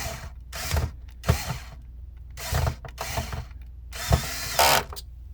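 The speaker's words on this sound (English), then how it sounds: "I'm gonna put the screws in." Screws being driven in by short bursts of a small driver while a Sony BDP-S301 Blu-ray player is reassembled, several brief whirring and clicking pulses separated by pauses, close and fairly quiet.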